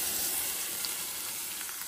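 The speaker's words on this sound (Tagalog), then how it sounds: "Prito ko ng konti yung atay." Marinated liver fries in a pan with a steady, soft sizzle, a constant hissing crackle held at low volume for a couple of seconds, with no talking.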